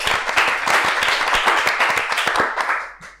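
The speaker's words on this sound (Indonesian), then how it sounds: "Tepuk tangan semuanya." A few podcast hosts and guests clap together on an Indonesian football podcast, a brisk, close burst of hand claps lasting about three seconds before tapering off.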